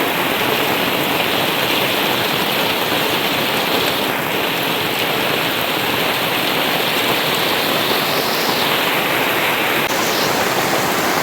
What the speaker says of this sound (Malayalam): ഒരു പരിപാടി നടക്കൂല, മഴ തന്നെ മഴ.